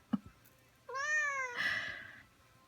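A cat gives one clear, fairly loud meow with a rising then falling pitch, lasting about a second and a half. A soft short sound comes just before it, and quiet room ambience surrounds it.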